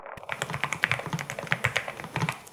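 Typing on a Nuphy Kick75 keyboard with a polycarbonate case and Gateron 3.0 low-profile switches, giving a deep, bassy sound: a steady run of close, rounded keystrokes with no voices.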